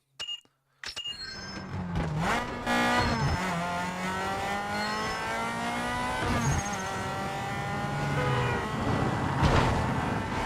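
A thin, whiny toy-like car engine in Need for Speed Underground 2 revs and hums steadily, pitch rising and falling with acceleration, with a brief tire squeal.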